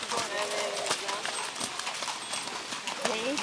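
Horse hooves clip-clop in an irregular series of sharp knocks at an equestrian event, mixed with a public-address announcer speaking over the scene and a brief whinny-like tone near the end.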